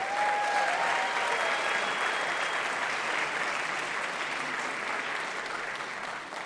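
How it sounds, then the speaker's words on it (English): Sustained applause from an event audience at MEX Talks, thanking the host committee, a steady dense wash of clapping that holds throughout and tapers slightly at the end. "Let's give them a round of applause."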